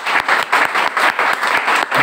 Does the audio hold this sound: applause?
yes